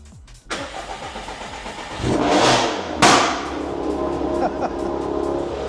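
A car in sport mode fires up and revs sharply, the engine surging in two loud bursts and then settling into a strong idle, with voices talking over it.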